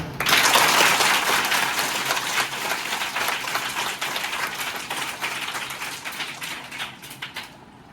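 Schoolchildren clapping together at a birthday gift-giving event at their school, a dense burst of applause that starts strong, then thins gradually as it tapers off near the end.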